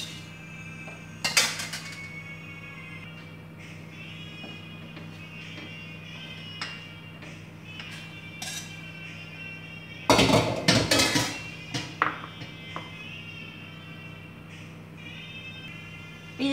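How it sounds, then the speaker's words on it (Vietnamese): Pot and metal utensils clink and clatter while cooking Vietnamese crab noodle soup (bánh canh cua), with a few sharp knocks early on and a dense burst of clanking midway over a low steady hum. "Ta bắt đầu đổ gạch cua vào trong nồi này."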